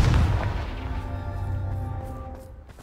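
A Confringo blast spell bursts in the video game Hogwarts Legacy, a loud booming explosion at the start that rumbles and slowly fades over a couple of seconds.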